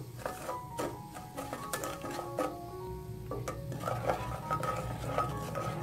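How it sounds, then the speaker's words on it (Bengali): Sugar being stirred in a pan to make caramel for a Bangladeshi lachha semai dish: a spoon scrapes and clinks steadily against the metal pan, close and fairly quiet, with no talk. "এখন চিনিটাকে আমি ক্যারামেল তৈরি করে নিচ্ছি নেড়ে চেড়ে।"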